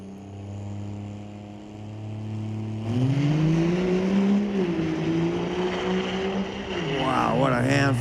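Diesel street legal drag car on a practice run at Mission Raceway Park, engine droning steadily, then rising sharply in pitch as it launches and accelerates, loud and sustained, with a voice talking over it.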